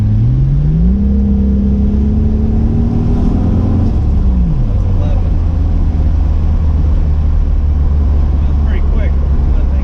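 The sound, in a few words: Toyota Supra engine accelerating on boost run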